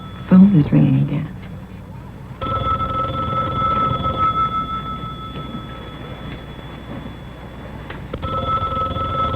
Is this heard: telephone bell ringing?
yes